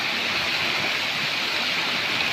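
Flood water rushing over a culvert, a steady loud broadband roar of flowing water, continuous and close, with no voices.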